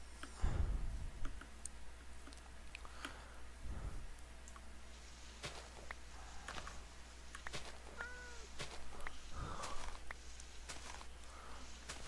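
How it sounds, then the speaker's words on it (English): A cat meows in the blocky world of the Minecraft video game, a short rising-and-falling call heard faintly at a distance amid scattered clicks and soft footstep sounds, with no talking. "The sound of a cat. There's the cat."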